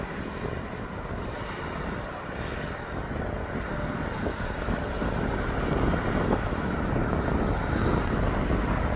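Ryanair aircraft being pushed back at East Midlands Airport, a loud continuous jet engine roar mixed with wind buffeting, steady and gradually building.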